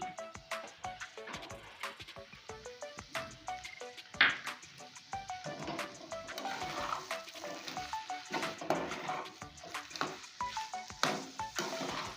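Cumin paste goes into taro leaves frying in a pan: a steady sizzle runs throughout, with irregular spatula scrapes and light metallic clinks as the mixture is stirred.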